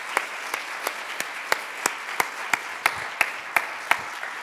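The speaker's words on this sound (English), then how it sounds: "I'd really like everyone to give them a round of applause now" Applause for conference organizers, heard as a steady run of separate, evenly spaced claps at a slow regular rhythm, moderately loud with no talking over them.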